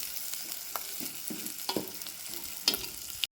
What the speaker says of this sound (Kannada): ಉಳ್ಳಾಗಡ್ಡಿ ಮೆಣಸಿನ್ಕಾಯಿ ಎಲ್ಲ ಚೆಂದ ಗುಡ್ಡ ಗುಲಾಬ್ ಬರೋ ತನಕ ಫ್ರೈ ಮಾಡ್ಕೊಂಡು ತಗೋತೀನಿ ರೀ